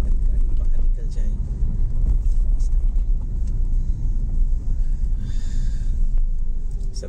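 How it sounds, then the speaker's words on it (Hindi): A car rolls into a FASTag toll plaza on a Mumbai–Goa highway road trip, with steady loud engine and road rumble throughout and a voice talking over it. "अब हम सेकेंड टोल की तरफ एंटर कर रहे हैं, एंड ये फास्ट टैग में हम गाड़ी डालेंगे ताकि जल्दी से हमारी गाड़ी बाहर निकल जाए।"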